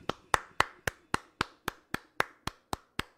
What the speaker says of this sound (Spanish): Qué bueno, oye, un aplauso.